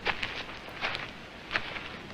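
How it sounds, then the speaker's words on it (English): Soft, crinkly papery footsteps from paper bags worn on feet, a few irregular scuffing steps with rustling texture, fairly quiet and close. "Someone's walking with paper bags on their feet."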